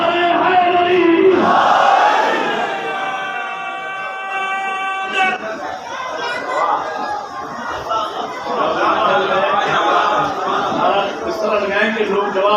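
A large mosque crowd at a Shia majlis in Bahawalpur roars religious slogans back in unison, loud and reverberant, with a sustained tonal chant at first, then a dense mass of shouting voices.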